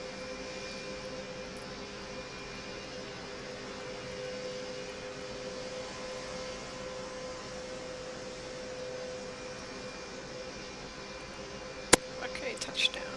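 Steady jet engine drone from an airliner touching down in Velocity Flight Simulator, a continuous even roar with a brief sharp click near the end and small thumps after it.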